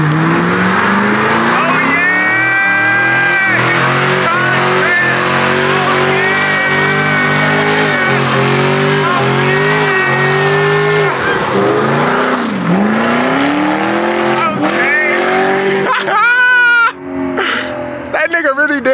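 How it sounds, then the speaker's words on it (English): A twin-turbo Mercedes-AMG doing a burnout, its engine revving loud and rising while the tires squeal and shriek up close, with people talking and shouting over the noise. "Did a burnout, bruh."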